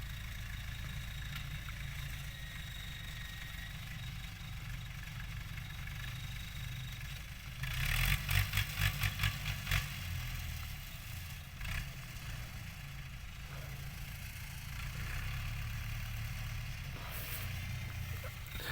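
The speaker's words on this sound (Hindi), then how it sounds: "सीधा ट्रैक्टर कमाद दे विच आवेगा जनाब।" A tractor drives into a standing sugarcane field to hoe between the rows, its engine running steadily and close throughout, with a burst of rattling clatter partway through.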